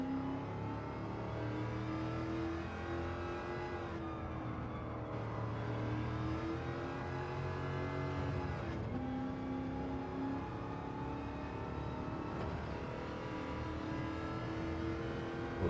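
Mini engine in the Gran Turismo 7 racing game, droning steadily as the car climbs a hill, its pitch wavering and rising with small gear-like shifts, loud and continuous with no talk.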